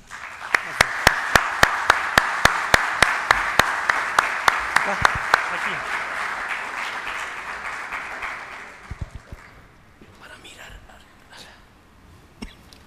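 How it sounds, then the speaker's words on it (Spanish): An audience applauds ambassadors at a colloquium on forty years of Argentine democracy, with loud, evenly spaced claps near the microphone over a softer crowd of clapping that fades out after about nine seconds, followed by quiet murmuring. "Un aplauso para ellos."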